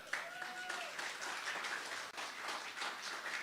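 A church congregation claps and cheers steadily, a broad wash of applause filling the space, with a voice or tone briefly rising above it near the start.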